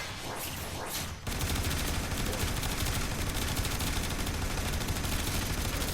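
Boltor Prime firing in the video game Warframe: after a brief quieter moment, a dense, loud, unbroken stream of rapid automatic shots fills the rest of the clip.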